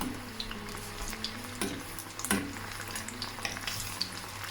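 Chicken pieces frying in a pan over medium-low heat make a soft, continuous sizzle with scattered small pops and crackles, quiet and without any speech.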